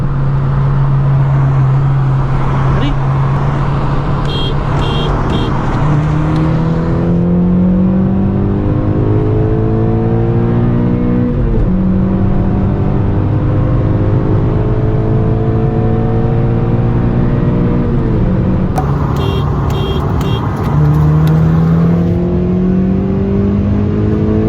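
Two Honda Civic Si cars, a 9th gen with a K24Z7 and a 10th gen with an L15B7, accelerating hard from a roll: loud, close engine drone climbing steadily in pitch through several gear changes, each shift briefly dropping the revs before rising again.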